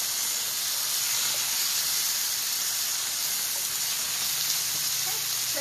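Garlic and sliced delicata squash sizzle steadily in a hot pan, a constant bright frying hiss with faint clinks of stirring and no talking.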